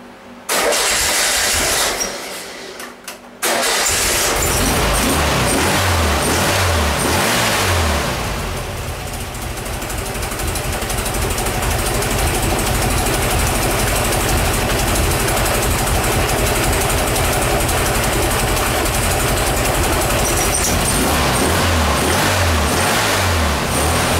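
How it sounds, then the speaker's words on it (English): A Volkswagen Type 1 engine cranks and fires on a cold start, then settles into a loud, steady air-cooled idle with a lumpy rhythm that runs on alone. "it's going to be a cold start. We'll go ahead and fire it up here."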